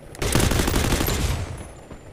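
Rapid automatic gunfire in the video game Garena Free Fire during a ranked match, one loud sustained burst of shots lasting about a second and a half, then a brief fade, with no talk.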